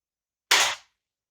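A single sharp shot from a lever action airgun, loud and close, cracking out of silence and decaying within about a third of a second.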